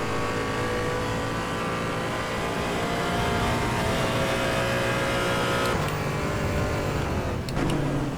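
A Porsche race car engine drones loud and steady in the Assetto Corsa EVO driving game, holding a high sustained note with brief shifts in pitch near the end and no talk.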